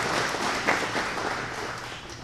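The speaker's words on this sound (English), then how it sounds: "how about a round of applause for Underwoods" Audience at a city State of the City address applauding, a sustained crowd of clapping hands at moderate volume with a faint hum underneath, tapering slightly toward the end.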